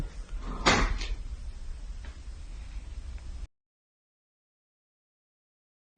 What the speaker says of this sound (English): this door has been like opening and closing